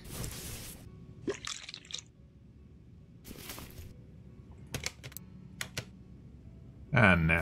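In Car Mechanic Simulator 2021, a drain tool empties brake fluid, heard as liquid dripping and trickling in short bursts between clicks and soft game sounds, with a voice talking over part of it.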